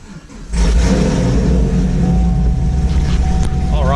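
A supercharged 2010-2015 Chevrolet Camaro SS with a KraftWerks blower cranks and fires up after a brief quiet moment, then settles into a loud, steady, rumbling idle close by.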